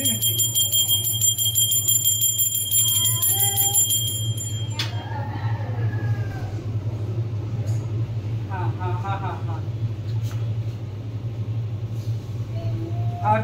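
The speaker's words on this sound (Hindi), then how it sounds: "घंटी बजा दो, घंटी बजा दो" A temple bell rings out in sharp metallic strikes over a low steady hum, with people chanting and talking throughout.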